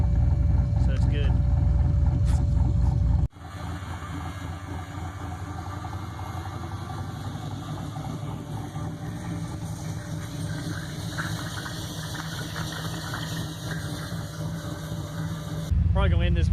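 An electric pump hums steadily close by for most of the clip, switched on partway through, with louder engine-like noise before and after it.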